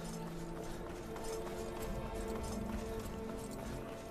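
Horse hooves clip-clop at a steady trot in the video game Skyrim, a continuous rhythmic patter of fairly quiet footfalls over a dense game soundscape.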